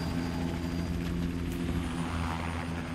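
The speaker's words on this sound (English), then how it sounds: "I'm hearing some radio chatter about prepping a helicopter." Helicopter in the video game GTA Online, a steady droning rotor and engine hum with strong low harmonic bands, held constant and fairly close throughout.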